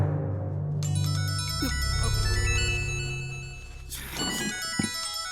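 A mobile phone ringtone in a courtroom plays a bright, tonal electronic melody that repeats and sustains, with a low hum underneath and a brief knock near the end.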